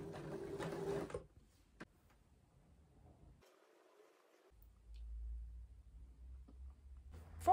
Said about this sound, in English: I sew on gusset like this, and then I need to sew sides.